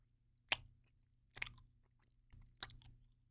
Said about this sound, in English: So he told me to chew on these, so I'm gonna do it.